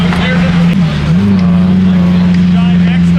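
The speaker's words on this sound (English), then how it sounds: "Look what pulled up, guys. Aventador SV." Lamborghini Aventador SV pulling up at a car meet: a loud, close, steady engine drone with slight pitch wavers, and people talking over it.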